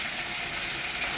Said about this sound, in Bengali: দিয়ে আলুটা সুন্দর করে ভেজে নেব